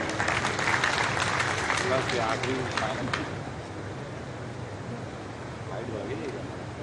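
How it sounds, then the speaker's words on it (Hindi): Crowd at a Bhim Rao Ambedkar birth anniversary ceremony claps to welcome a Khajuraho MP and state party president, a broad wash of applause that is strongest early and fades into a softer murmur with some voices. "आइए जोरदार तालियों से स्वागत करें।"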